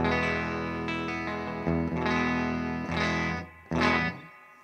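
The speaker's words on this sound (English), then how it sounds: "And clean tone sounds like this." Electric guitar played clean through the humbucker of a Fernandes super strat, sustained chords ringing with a sharp attack and decaying between strums, alone and close with a touch of effect.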